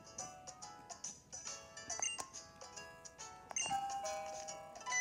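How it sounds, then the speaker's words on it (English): Doorbell chime from the Pokemon Sun video game, a bright electronic ding-dong ringing in short repeated tones over soft game music, faint and with no talk. "Ding dong."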